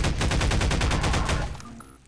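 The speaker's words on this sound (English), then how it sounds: "Ow, the turret." Rapid burst of automated turret gunfire from the video game Half-Life 2, loud and close with evenly spaced shots for about a second and a half before cutting off into a brief tail.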